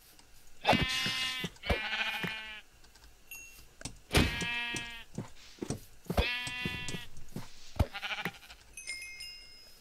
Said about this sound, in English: Where's that sheep?